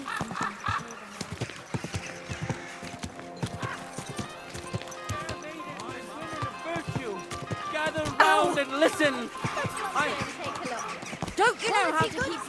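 Horses clip-clopping in the video game Kingdom Come: Deliverance 2, hooves steadily thudding close by under medieval townsfolk talk, with a whinny near the end.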